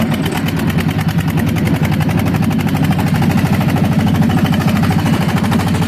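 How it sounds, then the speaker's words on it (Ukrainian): A loud, steady diesel engine of a tractor plowing drones with a rapid pulsing rumble, running continuously up close without any letup. "Покажу трішки, як трактор оре."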